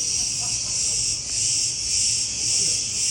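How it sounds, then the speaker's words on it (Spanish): Continuous high, shrill cicada buzzing, steady and loud throughout with no pauses, in the summer heat of Crete. "me quedé bastante harto de las cigarras que estaban todo el día cantando"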